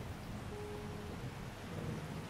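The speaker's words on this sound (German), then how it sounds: "hier in die Garage regnet es rein," Steady rain pours into a roofless garage in the zombie survival game 7 Days to Die, a dense, even wash of hissing patter with a low rumble underneath, continuous and fairly close, with no voices.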